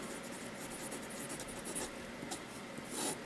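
Nib of a vintage Waterman Crusader fountain pen scratching across paper, a faint, steady close-up scritching with a few brief louder strokes.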